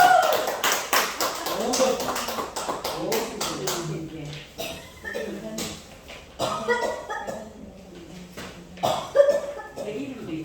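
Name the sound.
clapping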